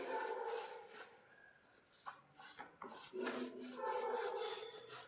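A dry cotton cloth rubs steadily over dirty shoes in a cleaning session, making a soft, continuous scuffing and brushing that rises and falls with short pauses between strokes.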